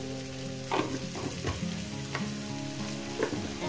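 Onions sizzle and crackle steadily in a hot pan with turmeric powder added, with a few scraping stirs breaking in; close and continuous, no voices.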